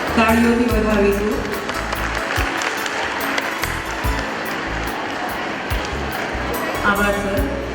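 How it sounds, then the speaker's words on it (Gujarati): An audience at a school annual function applauds, sustained clapping that fills the hall throughout, with a voice over the loudspeaker at the start. "તાળીઓથી વધાવીશું."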